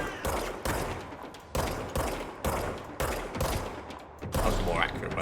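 Gunfire in the video game Control: loud, sharp volleys about every second, each decaying briefly before the next, with a low game rumble underneath.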